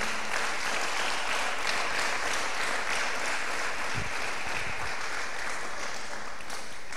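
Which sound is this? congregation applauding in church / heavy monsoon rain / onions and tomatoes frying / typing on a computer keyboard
congregation applauding in church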